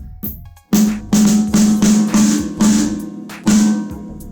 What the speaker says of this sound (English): And then we've got the snare, which is tuned to D.